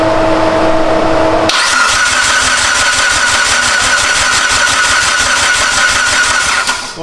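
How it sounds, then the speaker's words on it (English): Mitsubishi EVO engine with a suspected failed oil pump cranking steadily on the starter, a loud, close, rapid rhythmic churning that starts abruptly after a short hum and runs without firing. "We'll crank it and see if it goes off."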